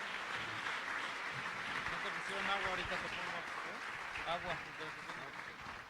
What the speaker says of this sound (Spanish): Jorge, entonces, ¿por qué no lo recibimos con un aplauso?